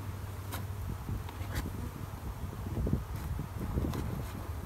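Honeybees buzzing around an opened hive during a spring inspection, a soft continuous droning with light rustling, outdoors and without talking.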